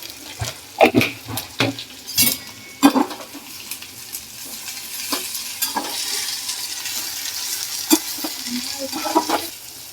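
Spiny gourd (kantola) tossed into hot oil with cumin and turmeric, a steady close sizzle with loud clattering stirs and scrapes early on, then a quieter continuous frying hiss broken by occasional spoon knocks.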